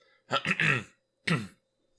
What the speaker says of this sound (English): I had to clear my throat really, really loud.